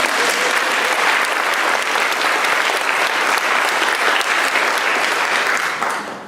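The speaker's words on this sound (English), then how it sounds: "Let's give them a round of applause." An audience at a summer reading series event applauds steadily, a dense wash of clapping that holds for several seconds and then tapers off at the end.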